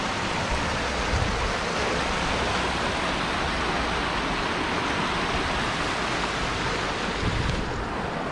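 Clear water flowing in a steady, broadband rush beside a roadside stop on the Tamhini route, loud and continuous throughout with no talking.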